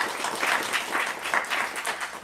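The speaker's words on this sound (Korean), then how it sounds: "우리 박수로 환영해 주시면 감사하겠습니다" A church congregation claps steadily and warmly for a couple of seconds to welcome a guest, even and sustained with no voices over it.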